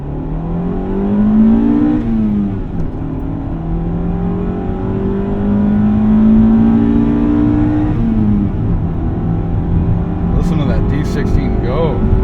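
A 1995 Honda Civic Si (EJ1) with a D16 engine pulls from 0 to 60, VTEC around 5,200 RPM: loud engine revs climb steadily, drop briefly at two gear shifts, then rise again.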